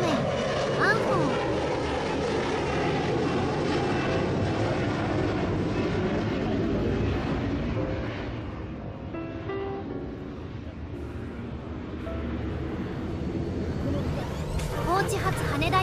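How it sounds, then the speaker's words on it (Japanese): An Embraer ERJ170 jet roars steadily down runway 14 at Kochi Airport on takeoff, a loud continuous engine rush that dips slightly midway then swells again, with no voices. "高知発福岡行き JAL3582 便エンブラエル ERJ170 ランウェイ14より離陸、テイクオフランウェイ14。"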